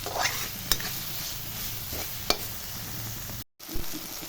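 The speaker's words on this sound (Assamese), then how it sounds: "এতিয়া এইখিনি গলি যোৱাকৈ অলপ সময় ভাজিম।" Spices frying in a pan for a jackfruit bud curry: a soft steady sizzle close by, with a few sharp utensil taps against the pan and a brief dropout near the end.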